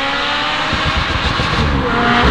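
A Ferrari 430 Scuderia engine revs hard and close, a dense continuous roar holding steady near the red line for a couple of seconds, with faint hints of tire noise.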